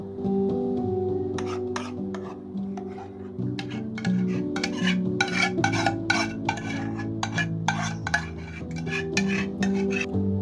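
Spoon scraping and clinking against a pot as mango and thickened milk paste are stirred in for amdoi, a repeated rasping rhythm close by, over a steady low hum.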